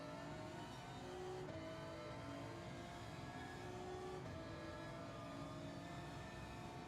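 Honda NSX engine revving in a racing video game, a steady loud engine drone with rising and falling pitch sweeps through the whole stretch, no talk over it.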